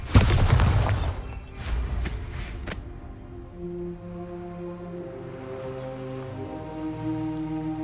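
A Bombarda spell explodes in Hogwarts Legacy, a loud booming blast with crackling debris at the start that quickly fades into a sustained musical game score.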